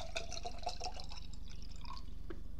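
Sparkling water pours steadily into a glass, giving a continuous fizzy rush with light splashes and droplets throughout, close and fairly quiet.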